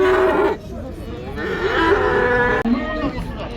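Cattle moo loudly and repeatedly at a busy livestock market in Kyzylorda, Kazakhstan, long drawn-out calls from several animals close by over faint crowd murmur.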